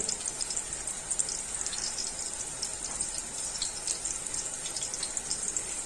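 Beef chapli kebabs frying in hot oil, a steady continuous sizzle and crackle throughout, fairly close, with no talking.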